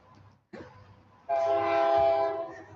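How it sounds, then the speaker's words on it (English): A train horn blares loud and sustained from close by, joined by the rumble of the passing train. Earlier, quieter rail noise and a sharp onset come before the long horn, with storm weather approaching outdoors. "There's that train."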